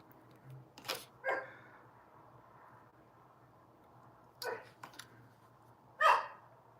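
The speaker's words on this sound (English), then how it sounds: "Excuse my yappy Pomeranian." A small Pomeranian dog yapping indoors, a few short sharp barks in scattered bursts over quiet room tone.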